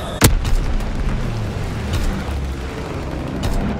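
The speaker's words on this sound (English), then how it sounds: "Dropping Fritz X bomb." A Fritz X guided bomb detonates in the World War II shooter Call of Duty WWII: one loud, sharp blast near the start, then a long rumbling tail under ongoing battle noise, with no voices.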